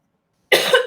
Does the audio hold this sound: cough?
yes